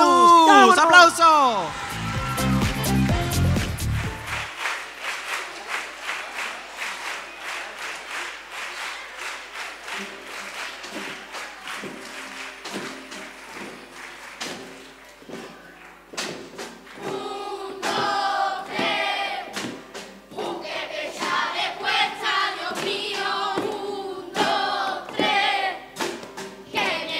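At a children's carnival contest, an audience gives sustained applause and crowd noise that rises and falls, while voices and shouts come through over it.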